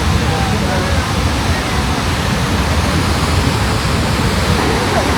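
Niagara Falls roaring: a dense, constant broadband rush of falling water, loud and close, with no break or other sound standing out.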